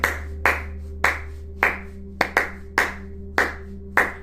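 Hands clapping to a beat in a steady rhythm, eight sharp, close claps at roughly half-second intervals over a low sustained hum, with no talk.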